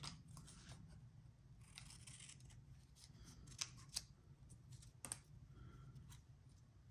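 Scissors snip out a paper insect specimen label in a quiet room, giving a few faint, sparse cuts and light paper rustles over a low steady background hum.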